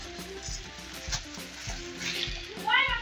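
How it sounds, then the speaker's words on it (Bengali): Mung dal lightly frying in a wok for khichuri, a steady close sizzle with soft stirring scrapes throughout and a brief high-pitched cry near the end. "মুগ ডালটা একটু হালকা ভাজা করবো।"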